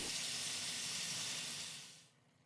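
Marinated chicken hits hot vegetable oil in a pan, giving a soft, steady sizzle and hiss that holds for about two seconds and then abruptly fades away.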